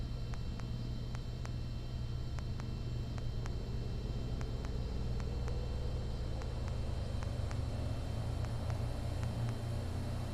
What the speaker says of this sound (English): Okay, so we're going to bring up our throttle.